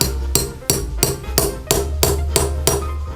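Steady hammer blows drive timber during construction of a century-old wooden bridge at Ban Khok Kra Chai, Khon Buri, Nakhon Ratchasima, Thailand: about seven loud, sharp strikes land in an even rhythm roughly three times a second, close by.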